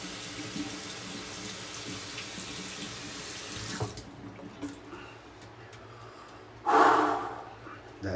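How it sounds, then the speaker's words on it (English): A tap runs steadily into a sink while a shaving brush is rinsed under it. The flow is loud and close at first, then thins and quiets after a few seconds, ending in a short splashing surge. "Let me rinse off my brush."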